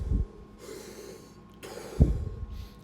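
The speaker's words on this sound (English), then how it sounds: "so you're breathing in, you reverse the air, and you breathe out." Forceful breath work: a sharp snorting exhale opens, followed by a long rushing inhale, then another strong puff of breath out and a softer airy draw, close and alone with no talk.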